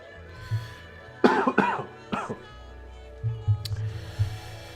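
A few close, sharp coughs in a quick cluster, followed by a quieter low rumble and another brief cough-like burst.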